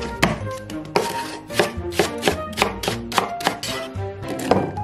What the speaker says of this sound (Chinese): 咱们简单的把葱姜蒜给它简单切一下